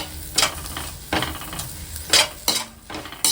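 Beaten egg frying and being stirred in a pan for homemade chicken rice, with bursts of sizzling and spatula scrapes coming in several uneven strokes, close and fairly loud, with no talking.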